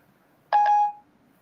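A single short electronic phone tone with a clear pitch and overtones rings out alone for about half a second while a call is dialed to reach an attorney.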